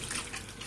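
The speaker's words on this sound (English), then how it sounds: "with the cone it is dishwasher safe, but you can also just run it under some water" Tap water runs steadily over the plastic cone of a Tupperware Great Master Shredder, giving a close, continuous hiss with no voices over it.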